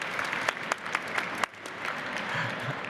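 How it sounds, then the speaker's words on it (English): Steady, moderately loud applause from a conference session audience, with individual claps standing out now and then, continuing evenly for a few seconds. "So let's get a round of applause."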